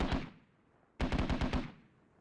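Gunfire in the Squad video game, a single burst followed by a rapid string of about eight sharp shots that echo and fade, loud and free of talk.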